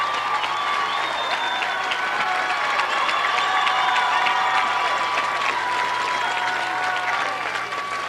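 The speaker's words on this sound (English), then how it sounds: "getting a round of applause" A stadium crowd at a 1994 high school championship football game between Ceredo-Kenova and the Wonders applauds and cheers for tight end Ty Millum, a steady roar of clapping and shouting sustained at a distance with no clear speech.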